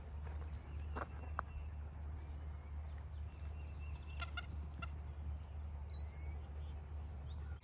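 A farm fowl, apparently a rooster, lets out scattered short clucking calls over a low, constant background hum, sounding fairly faint and a little distant.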